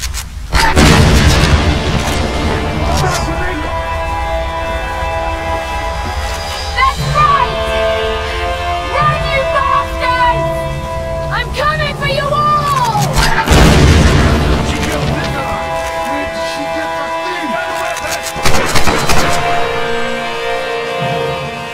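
Assault rifle fire in the action-adventure game Tomb Raider comes as heavy bursts, a cluster at the start and another partway through, mixed with booms, a sustained music bed and a voice talking in between.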